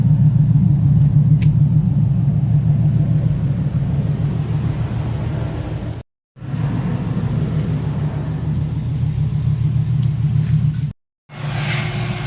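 An electric leaf blower drying a TVR Series 6 after a wash, a loud, steady low droning rumble held continuously, cutting out briefly twice before resuming at the same level.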